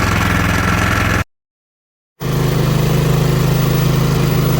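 A snow blower engine idles steadily while warming up before clearing wet snow, a loud continuous low rumble with a brief cut to silence partway through, then the same running drone resumes.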